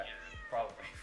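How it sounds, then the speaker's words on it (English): A pet cat meows once in the background, a clear drawn-out call partly under a person's speech. "if you hear a sound in the background, I'm sorry, I have a cat"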